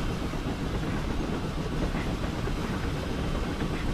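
A train in the game Century of Steam running along the rails, giving a steady, loud, continuous rolling rumble with no breaks and no voices.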